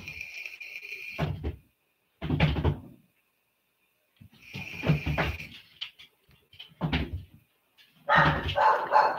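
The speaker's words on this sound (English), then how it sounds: "I don't need to listen to them bark out there." Dogs bark outside in a string of separate bursts, some sharp and some rough, spread irregularly across several seconds with quiet gaps between them and no talk.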